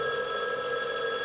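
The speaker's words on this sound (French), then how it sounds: "le téléphone a sonné" A telephone rings in a brief, steady electronic trill, clear and sustained with no voices over it.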